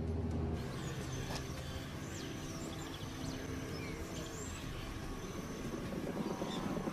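A small airplane flies over a Pantanal cattle ranch of zebu cattle, its steady engine drone holding throughout beneath birdsong and faint outdoor ambience, with no talk.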